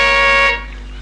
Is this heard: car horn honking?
yes